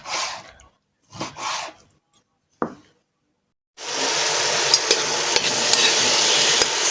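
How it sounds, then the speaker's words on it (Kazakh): Meat and garlic frying in a pan at home, preceded by a few brief scraping or handling noises and a short gap before a loud continuous sizzle takes over for the last three seconds. "Sarımsақпен етімді қуырып алып"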